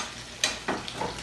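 Duck breast sizzles in rendered fat in a pan as it is turned, a steady soft frying hiss broken by a few sharp crackles and spatters, close and moderately loud.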